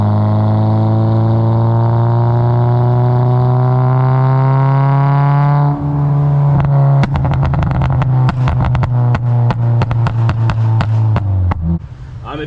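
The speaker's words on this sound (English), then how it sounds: "I have the K-Tune 3-inch exhaust right now." A car engine fitted with a K-Tune 3-inch aftermarket exhaust drones with a steady rising tone, then breaks into rapid loud popping and crackling pulses, close and alone without talk.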